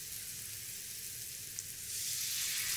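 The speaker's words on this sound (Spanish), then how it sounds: "Removemos y dejamos sofreír 10 minutos." Paprika and crushed tomato fry in a pan with a steady, even sizzle that grows a little louder toward the end. A soft stir scrapes once through the constant hiss.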